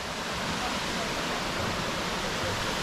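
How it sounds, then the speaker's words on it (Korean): Ssangyong waterfall in Seoraksan, in rainy mountain conditions, produces a steady broadband roar of falling water that holds continuous and even, with no break or change, throughout. "저 위에가 쌍용 폭포네."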